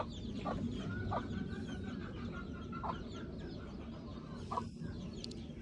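Several roosters cluck in short, repeated calls, close by, over a steady background hum of farmyard noise, with no talking.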